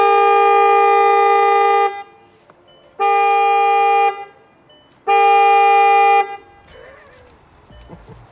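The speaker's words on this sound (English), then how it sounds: "the horn works" The horn of a broken Bugatti sounds three times, each a loud, steady, sustained honk of one to two seconds with short pauses between, followed by faint handling noise.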